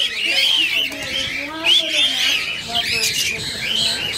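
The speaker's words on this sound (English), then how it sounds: "Those are cockatiels?" Cockatiels call from an aviary in shrill, repeated squawks and chirps, with several birds overlapping at close range while people talk.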